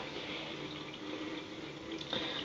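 Water is poured into coconut milk while making an iced Milo drink, a soft continuous splashing trickle, fairly faint and steady throughout with a slight rise near the end.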